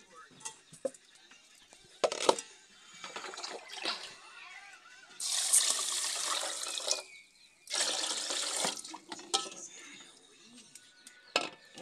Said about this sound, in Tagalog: Ngayon po, ito pa yung hugasan ko sa dalawang hugas.